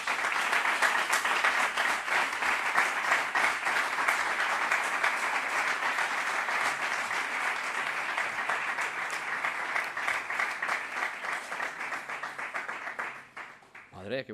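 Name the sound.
audience applause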